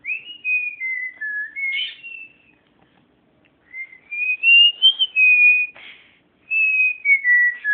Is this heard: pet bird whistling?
yes